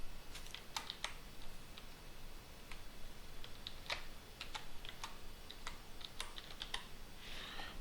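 Password being typed on a computer keyboard: a quiet, irregular run of light key clicks, some in quick bursts and others spaced apart, close by with no voices.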